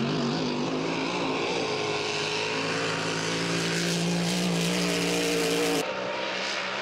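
Racing boat engine at the Valleyfield Grand Prix time trials, a loud sustained roar with steady harmonic whine that climbs in pitch as it revs, then drops abruptly near the end.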